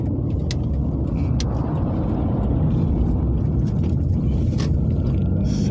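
A car turns toward a familiar parking lot, its engine a steady, moderately loud low rumble with a few faint higher clicks and thumps scattered through.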